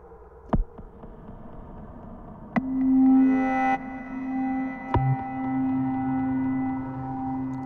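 A few sharp clicks, then a sustained synthesizer note from Reaktor 6 rings out with no delay and a long reverberant tail that lingers and fades.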